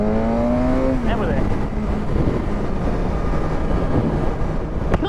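A 2019 BMW S1000RR motorcycle rides along a freeway, its engine droning loud and close under heavy wind rush, with a brief rising-then-steady engine note early on.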